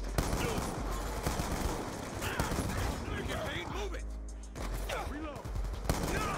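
Rapid gunfire fills a Call of Duty Black Ops 2 multiplayer match, dense overlapping bursts and shots running nearly continuously, with a brief lull near the middle and voices talking over it.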